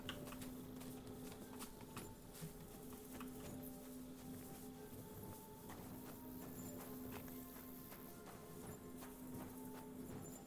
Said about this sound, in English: There goes a horsey